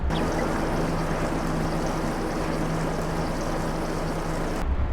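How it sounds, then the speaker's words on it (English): A milk pump in a farming video game runs in a steady, continuous drone with a low humming tone, then cuts off abruptly just before the end. "I can hear it pumping away."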